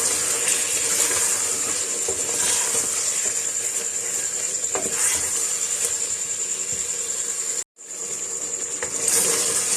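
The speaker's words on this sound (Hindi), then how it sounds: "मैं शलजम डालकर अच्छा सा इनको भून लूँगी" Turnips with mutton browning in a pan, giving a steady, loud broadband sizzle and hiss that runs almost unbroken, with small pops and scrapes, one brief silent gap, and no talking.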